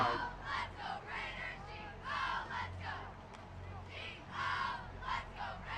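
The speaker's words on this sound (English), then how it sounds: "Big cheer when Christian Soltis announced on the tackle." A crowd at a high school football game between The Hun School of Princeton and Blair Academy cheers loudly in swelling waves after a tackle, with shouts and roars rising and falling across the stands.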